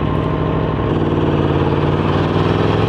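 A motorcycle engine running steadily and close in wet weather, a loud continuous low rumble with no voices over it.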